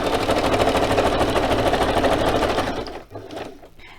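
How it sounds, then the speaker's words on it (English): A sewing machine sews a zigzag stitch in off-white thread across fabric, making a fast, even mechanical whir up close that cuts off after nearly three seconds and leaves faint handling noise. "I am just going to stitch across there with the zigzag stitch."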